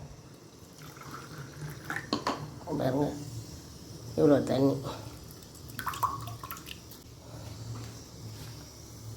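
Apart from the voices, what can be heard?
pouring water into a glass of jaggery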